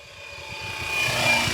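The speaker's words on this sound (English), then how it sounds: "I've been learning to fly helicopters, and this helicopter is a FlyWing" A FlyWing EC135 RTF GPS radio-controlled helicopter drone flies close by, its rotor and motor whine steadily building in loudness, with no talk.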